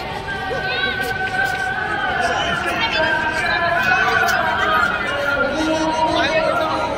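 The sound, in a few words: crowd chatter at Jama Masjid, Delhi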